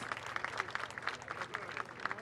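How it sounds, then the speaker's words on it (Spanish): Sustained clapping from an assembled crowd at a public housing key handover event, many hands blending into an even wash with a few sharper claps standing out. "Lo despedimos con un fuerte aplauso."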